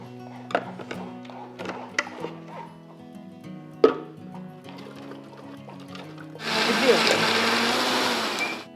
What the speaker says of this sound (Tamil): நான் நெக்ஸ்ட் பேட்ச் போட்டு அரைச்சிட்டு இருக்கேன்.